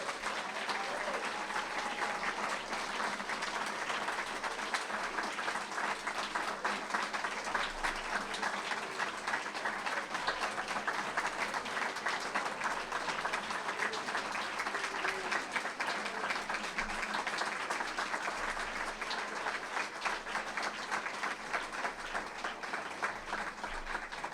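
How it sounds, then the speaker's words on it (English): Sustained audience applause at a school education foundation celebration, a dense, even roar of many hands clapping that holds steady without a break. "Let's have one more round of applause for the AV Club for all their work."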